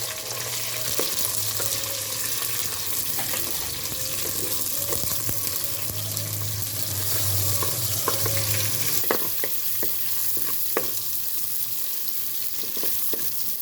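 Onions hiss and sizzle in hot oil with cinnamon and cloves, the start of a prawn curry, a steady close frying noise with occasional scrapes and taps of a spoon and no talking.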